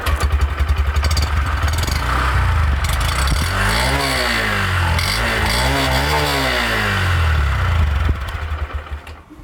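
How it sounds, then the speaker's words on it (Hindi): A Honda Livo BS6 motorcycle engine idles smoothly, then revs up and settles in a few sweeping rises and falls of the exhaust note before fading, with no talking. "इस गाड़ी का एग्जॉस्ट नोट जो है बहुत ही ज़्यादा स्मूथ है"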